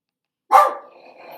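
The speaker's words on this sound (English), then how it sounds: "Uh-oh, there goes my dog." A single sharp dog bark breaks out of silence, loud and close, then trails off into a faint ringing tail.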